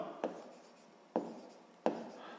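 A pen scratches on paper in three short, distinct strokes spaced about a second apart, close and clear against a quiet background during a sixth-grade maths lesson.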